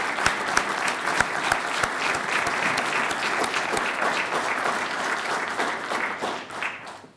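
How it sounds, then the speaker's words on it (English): Sustained applause from a township audience at a State of the Township address, many hands clapping in a dense wash with sharp individual claps standing out, tapering off at the end. "big applause for that."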